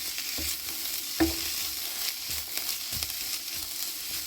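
Cabbage and beaten eggs stir-frying in a pan with a steady low sizzle, broken by several soft scraping strokes of a spatula, one louder knock near the start, heard close with no talking.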